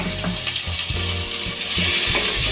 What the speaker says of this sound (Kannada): ಒಂದೆರಡು ಟೊಮೊಟೊನೂ ಕೂಡ ಉದ್ದಾಗಿ ಕಟ್ ಮಾಡ್ಕೊಂಡಿರೋದು ಟೊಮೊಟೊನೂ ಹಾಕೋತಾ ಇದ್ದೀನಿ